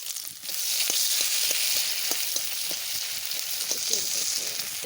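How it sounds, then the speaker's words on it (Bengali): Potatoes drop into hot oil, bringing a sudden rise to a steady loud sizzle with quick crackling pops and spatters that continue to the end. "এদিকে তেল গরম হয়ে গেছে আলু দিয়ে দিচ্ছি"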